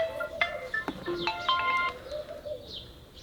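A mobile phone rings indoors with a bright electronic melody of short stepped tones, fairly close and clear, followed by softer faint chirps.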